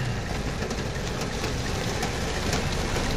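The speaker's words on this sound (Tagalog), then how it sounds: "Umuulan pa ng malakas. Lumakas pa lalo." Steady, dense hiss of heavy rain pouring continuously, loud and close, with a low rumble underneath and no voices.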